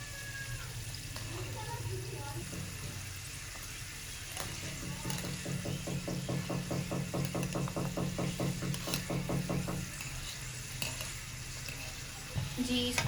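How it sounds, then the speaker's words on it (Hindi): Katori chaat dough baskets fry in hot oil, giving a steady close sizzle that bubbles more strongly through the middle and then settles back to a low fizz. "अब इसको फ्राई होने देंगे पहले अच्छे से।"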